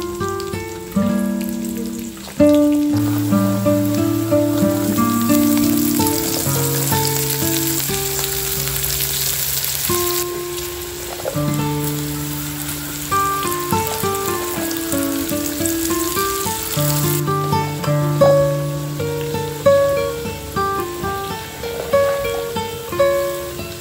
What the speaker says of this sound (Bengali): সবজিগুলো না ভেজে নেব সমস্ত দিয়ে।